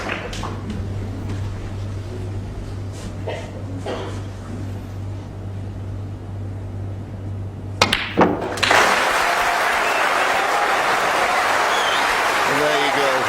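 An audience at a snooker match bursts into loud, sustained applause for a century break after a few sharp knocks, following a stretch of calm commentary.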